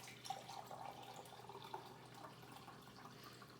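Water is poured into a measuring container during a small-group volume and capacity lesson, a faint, steady trickle with light splashes, no talk.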